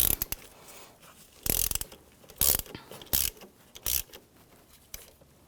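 A ratchet tightening a bolt on the turbocharger exhaust manifold of a 2004-2009 Audi A4 Quattro 2.0L, heard as several close, sharp bursts of rapid clicking separated by short pauses, with no talking.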